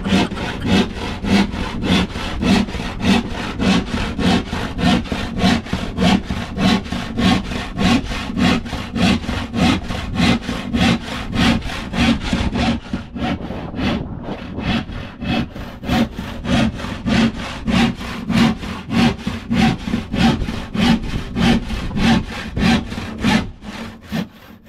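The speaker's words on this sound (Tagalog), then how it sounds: "Mukhang humihingi na ng hasa ang lagari mo." A dull hand saw cuts through wood during boat building. Quick, even back-and-forth strokes rasp loudly and continuously for about twenty-five seconds, with a brief uneven patch midway and no talking.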